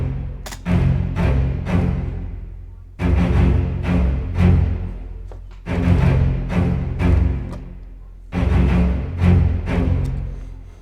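Orchestral strings play short, punchy chords in a Final Fantasy VII battle theme, with double bass hitting the main accents. The bursts come in four repeating rhythmic phrases, loud and close, with no voices.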